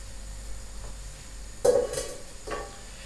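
Veal rolls are moved from a frying pan into a pressure cooker: a quiet sizzle runs underneath, then a metallic clank and scrape of utensil on pan, followed by a softer clatter shortly after.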